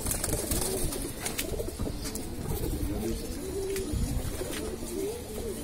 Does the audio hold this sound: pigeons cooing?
yes